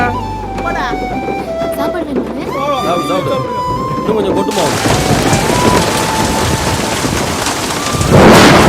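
A movie scene opens with tonal music, then heavy rain comes in as a dense, loud roar and keeps going, ending in a sharp, rumbling burst like thunder.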